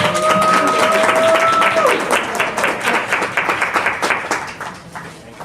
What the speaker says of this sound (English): let's give Miss LaDre a round of applause